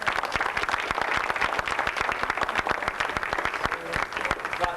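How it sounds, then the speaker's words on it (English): Audience applause at a 1987 Exchange Club speech contest, honoring a participant named Mike: dense, steady clapping from a large crowd in a hall, loud and continuous for several seconds with no voices over it. "How about if we all give Mike a round of applause?"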